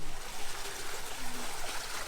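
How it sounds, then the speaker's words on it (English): Water from a cistern is pumped by a sump pump into a pool under construction, a steady close trickling, streaming flow running continuously without talk. "And now we're dumping the water in from the cistern."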